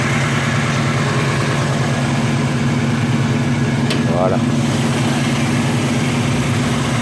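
A 1967 Mercury Cougar's 390 big-block V8 idles steadily and close by with a deep, even rumble, and a brief higher squeak cuts in partway through.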